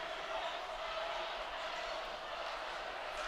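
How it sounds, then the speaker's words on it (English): Crowd at a high school ice hockey game on senior recognition night, a steady broad roar of cheering from the stands filling the arena throughout, with no break or lull. "Listen to that crowd, folks."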